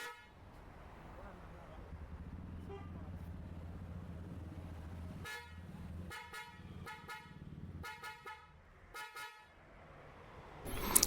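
A car horn with a reported fault honks in a series of short blasts, a few quick toots in a row, over steady background hum and faint voices.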